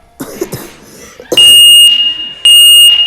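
A fire alarm goes off after a break-glass pull station is activated, sounding as two loud, steady high electronic bursts separated by a short gap, following some coughing and brief handling noise.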